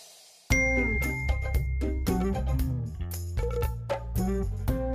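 A bright, ringing phone text-message notification chime plays a quick series of tones, close and clear, with no talking over it.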